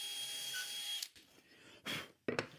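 A power drill bores a dowel hole through a JessEm jig into a wooden shelf, then stops, followed by two short knocks and clatters as the jig is moved to the next spot.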